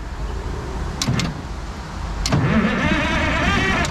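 A CAT 977 track loader that has sat for 37 years gets cranked over, with a couple of sharp clicks, then the starter engaging into a rising, uneven mechanical churning, close and fairly loud, with no talking.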